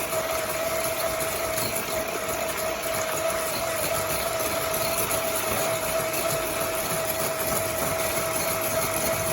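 An electric mixer beats egg whites for chocolate mousse, producing a steady, even whirring motor drone at moderate volume that holds unchanged for about nine seconds, with no voices.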